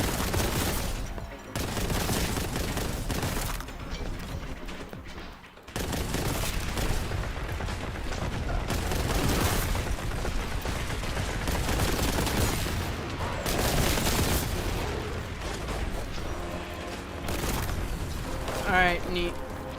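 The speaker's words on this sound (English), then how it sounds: "look at that flurry of bullets" A flurry of video game gunfire, with continuous heavy bursts and booming impacts filling the whole stretch loudly, as a voice talks over it now and then.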